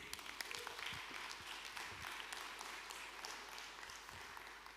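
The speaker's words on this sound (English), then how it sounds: "Let's give them a round of applause," Audience applause at a conference talk during Ubuntu Summit 2024, a steady wash of clapping from a crowd sustained throughout, moderately distant in a hall.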